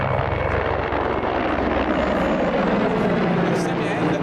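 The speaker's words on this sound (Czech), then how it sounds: "Vrtulník letí sem" Mi-24 helicopter flying over at an outdoor display, a loud continuous rotor and engine roar that stays steady throughout, with people talking faintly underneath.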